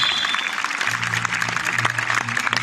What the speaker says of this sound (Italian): facciamo un altro forte applauso ai nostri attori